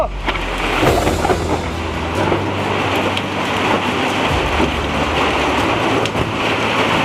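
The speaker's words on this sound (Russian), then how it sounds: "Идет сильный ливень." Heavy downpour during a southern summer thunderstorm, a loud, steady rush of rain that fills the whole stretch without a break and with no voices.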